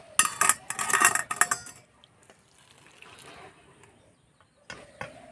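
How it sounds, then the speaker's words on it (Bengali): Boiled Maggi noodles and their water are tipped into a metal strainer, giving a clattering, splashing rush up front, then a softer dribbling drain and a couple of late metallic knocks, close by. "একটা ছাঁকনিতে ঢেলে দেব"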